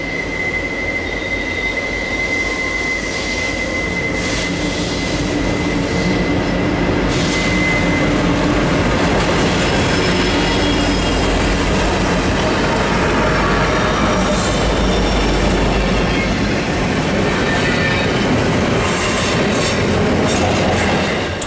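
A Union Pacific freight train led by UP SD70M and C45AH locomotives plus an NS SD70ACE rolls past close by. It makes a loud, continuous roar of rumbling cars with high wheel squeal and clickety-clack throughout.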